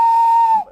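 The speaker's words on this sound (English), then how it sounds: "The guard blew his whistle" A railway guard's whistle blown in one long, steady, shrill blast that lasts almost a second before cutting off, loud and close with nothing else heard around it.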